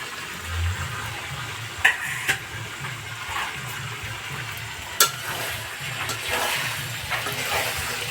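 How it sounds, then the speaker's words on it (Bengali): Chicken meat cooking in a pan for a Dashami festival meal, a steady low sizzle with occasional stirring clinks and scrapes, close and moderately loud, no talk. "দশমী উপলক্ষে মুরগির মাংস রান্না করতেছি"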